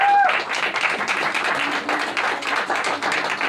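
A press-conference audience applauds in a room, a dense patter of many hands clapping at close to moderate distance that continues steadily throughout.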